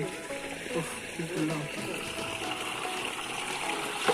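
Water gushes steadily into a farm field planted with brinjal, a continuous rushing flow that sits under loud, excited talking throughout.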